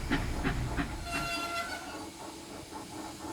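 A passenger train rumbles past with rhythmic clickety-clack of wheels on rail joints, a short horn-like tone sounding midway, the rolling noise loud at first then easing as it moves on.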